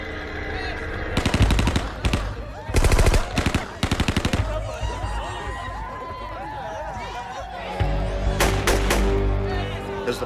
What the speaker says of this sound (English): Someone cuts loose from the door of the hut with an AK-47 on full automatic.